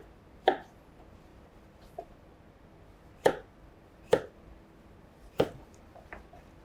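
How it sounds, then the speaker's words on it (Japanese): A knife chopping potatoes into bite-size pieces on a cutting board, several separate crisp, close thuds spaced unevenly with short quiet gaps between them and no talking. "じゃがいもは縦に半分に切って、そうですね、このまま4分の1叩いて、これも一口大の大きさに"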